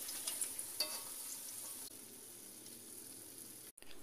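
Pindang salem fish frying in hot oil gives a steady, quiet sizzling hiss with faint crackles, cutting out briefly near the end before resuming.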